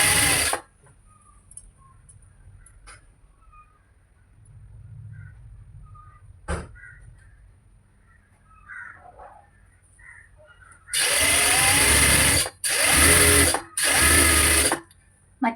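A sewing machine stitches the folded hem of a cigarette pant in three loud, rapid bursts separated by short pauses. Quiet handling noises and a few faint clicks come before them.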